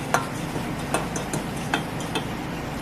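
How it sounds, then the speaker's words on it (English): Gofio being stirred constantly in a pan as it toasts, a soft scraping swish with periodic light ticks of the utensil against the pan at a steady rhythm, close and fairly quiet. "Remember, you have to constantly mix it because you do not want it to get burned."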